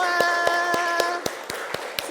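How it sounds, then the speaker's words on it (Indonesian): A classroom of students clapping together in a school lesson: eight or so sharp, evenly spaced claps in quick rhythm, close and fairly loud over a faint background hum. "Oke, tepuk tangan buat kita semua."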